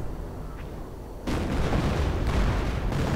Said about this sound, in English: Artillery going down, officer artillery, and there we go again.